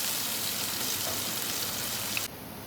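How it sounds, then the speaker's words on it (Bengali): Potatoes fry steadily in hot oil in a pan, a close, continuous sizzling hiss that holds evenly and then drops off abruptly near the end. "তো আলুটা এবার ভাজা হোক"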